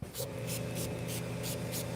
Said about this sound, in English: So I'm just going to spray it liberally on the wheel,